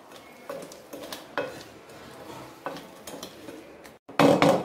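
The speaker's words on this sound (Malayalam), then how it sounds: "അപ്പൊ അതിനനുസരിച്ച് നമ്മൾ ഇളക്കി കൊടുത്തു കഴിഞ്ഞിട്ട് നോക്കിയിട്ട് വീണ്ടും ഒഴിച്ചു കൊടുത്താൽ മതി." A wooden churning stick knocks and scrapes against a pot while panchamrutham, a sweet fruit mixture, is stirred, giving soft irregular clunks and sticky swishes, with a louder clatter at the end.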